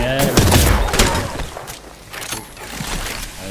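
Incoming gunfire strikes a player in the battle royale game Apex Legends, with a loud burst of shots up close at first, then a few scattered thuds and cracks.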